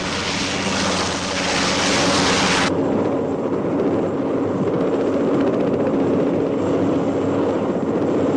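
Steady, loud rotor and engine roar of naval anti-submarine helicopters, with broadband noise and a hissing whoosh that drops away after a few seconds, leaving a constant drone.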